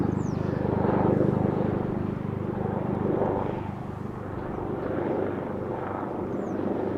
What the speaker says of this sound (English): Helicopter is now hovering right above us.